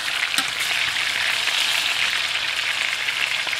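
Chicken pieces sizzle steadily in a hot skillet for a garlic butter chicken dish, a constant close crackling hiss with occasional louder pops.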